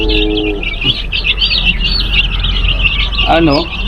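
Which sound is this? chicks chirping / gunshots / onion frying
chicks chirping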